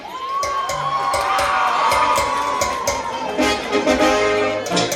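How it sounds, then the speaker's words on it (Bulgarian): Carnival evening audience in Kaiserslautern cheering loudly, with shouts, children's voices and whoops over scattered clapping, close and lively throughout. "Аплодисменти за Богдана!"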